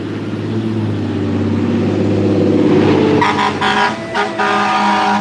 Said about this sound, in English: Fire truck is leaving